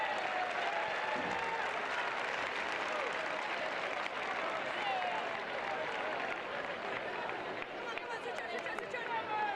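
Fans at a Chelsea v Brighton women's league football match applaud steadily for nearly ten seconds, a dense crowd clapping with murmur and commentary running over it.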